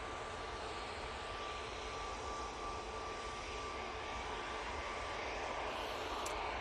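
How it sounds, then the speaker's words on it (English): A Ryanair Boeing 737 MAX 8 jet departs Manchester Airport, giving a steady, broad, distant engine roar that holds fairly constant throughout, faint and with no voices over it. "737 MAX 8. Ready to rock and roll. Going off to Murcia."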